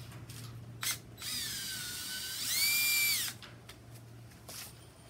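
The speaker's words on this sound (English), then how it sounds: "you're going to want to drive your screws into this to make the leg" A power drill drives screws into wood to build the leg of a quail cage: two rising, whining motor runs, the second louder and longer, with a few sharp clicks and knocks between them against a quiet background hum.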